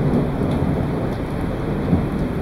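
Steady heavy rain pours down during a thunderstorm while low thunder rumbles continuously underneath, a dense, constant wash of sound with no voices.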